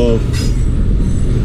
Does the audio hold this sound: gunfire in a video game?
no